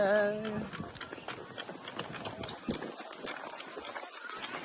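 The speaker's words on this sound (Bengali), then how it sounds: "আমরা যে ঘোড়া গাড়ি" A horse-drawn carriage rolls along with a quick, rhythmic clip-clop of hooves on a hard road, close by, alongside street noise and some background voices.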